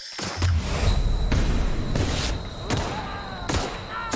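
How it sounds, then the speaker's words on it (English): Gunfire in The Outer Worlds cracks out in a rapid exchange of close, sharp shots and heavier booms, spaced irregularly over a continuous roar of combat noise. "can't block gunshots"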